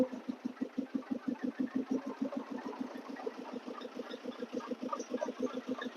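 A motorboat engine chugs in a fast, even pulse on the Brahmaputra river, moderately close and steady throughout with no talking.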